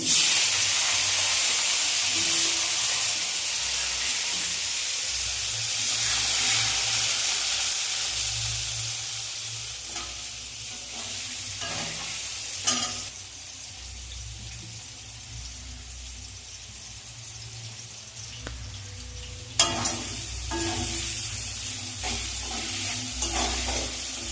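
Potatoes fry in a hot pan with a loud, continuous sizzle that eases slightly over time, broken by occasional spatula scrapes and clatters, close up and with no voices.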